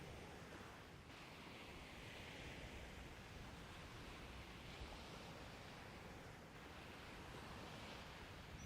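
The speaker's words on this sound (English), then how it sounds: "and now I can hear waves." Ocean waves wash steadily at Tauranga Harbour, New Zealand, a broad soft surf roar with wind, swelling slightly and easing around the middle, faint and far off, no voices.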